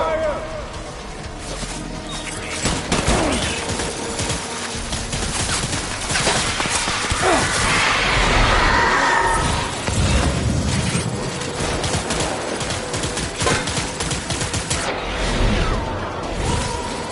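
Dense, continuous gunfire from the Death Stranding video game, loud and sustained, with bursts and whooshes layered over a thick mix and voices talking throughout.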